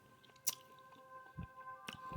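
Canned smoked oysters being chewed up close, with soft wet squishes, a couple of sharper smacking bites, and quiet pauses between them over a faint steady hum.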